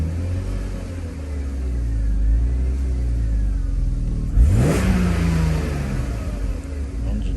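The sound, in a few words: car engine idling, running rough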